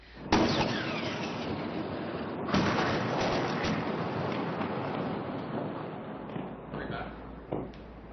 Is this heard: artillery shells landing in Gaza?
yes